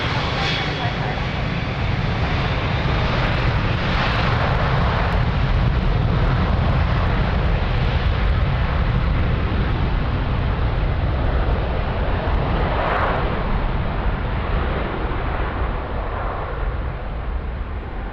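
An airliner takes off from runway 02 at Lisbon Airport, its jet engines a loud, steady broadband roar that holds for the full stretch with slight swells as the aircraft accelerates.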